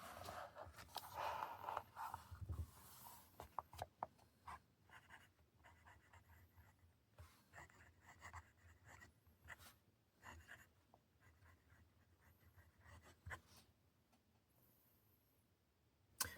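A stub nib fountain pen scratches across cheap paper in close, quiet strokes, with irregular bursts of scratching and short pauses between lines.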